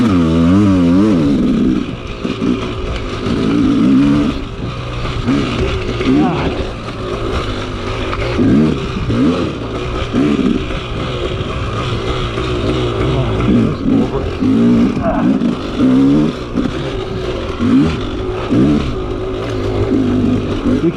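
Dirt bike engine in 3rd gear on a tight wooded trail at Croom, Florida: loud, close, continuous revving that rises and falls with throttle changes throughout, without any pause or talking.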